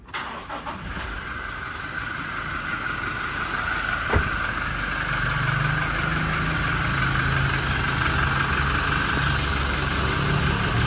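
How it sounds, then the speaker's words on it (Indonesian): A 2021 Toyota Innova Reborn diesel automatic, V trim, idles with the air conditioning off, a steady close clattering diesel hum with a faint whine and a single sharp click partway through. "Ya begini ya kondisi suara mesinnya, mesin idle tanpa AC."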